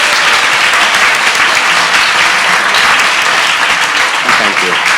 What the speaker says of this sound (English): Can we have one last huge round of applause for our winners?